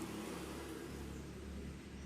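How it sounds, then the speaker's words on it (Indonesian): A motorcycle engine passes outside, a faint steady drone of distant road noise that holds for about two seconds with no one talking. "Ada suara motor ya, tapi nggak apa-apa."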